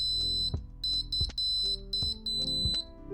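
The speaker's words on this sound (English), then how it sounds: "I get a little beep." Short electronic buzzer beeps sound in an uneven sequence, each a sharp high tone with a low hum underneath, close and clear.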